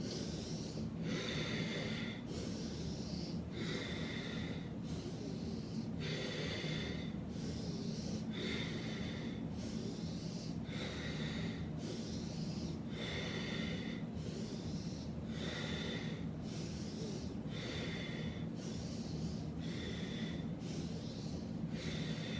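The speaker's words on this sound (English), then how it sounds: "You can either exhale out through the mouth or through the nose." Slow, steady guided breathing runs through the whole stretch, with regular inhales and exhales through the mouth or nose repeating about every second. Each breath is close and clear, set over a constant low background hum, with no talking.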